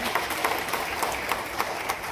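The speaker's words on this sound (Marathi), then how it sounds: "टाळ्या वाजवून आपण एक सत्कार केला पाहिजे" An audience claps in honour of newly elected village sarpanches at a district award ceremony in Solapur, giving a continuous, fairly close round of applause with scattered sharper hand claps throughout.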